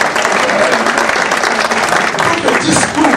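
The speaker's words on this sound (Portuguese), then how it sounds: "Por favor, gente, uma salva de palmas" Applause from an audience at an academic competition event fills the room, dense and sustained clapping from many hands at close range with no pause.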